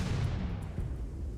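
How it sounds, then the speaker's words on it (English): Fuel rod cannon fire in RimWorld comes as a heavy, low rumbling blast with a thud partway through, loud and dense across a brief moment without any voices. "We're hitting with the cannons"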